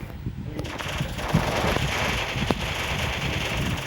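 Gunfire in the Free Fire video game, heard as a dense continuous roar of game audio with a few sharp reports standing out, steady and loud throughout.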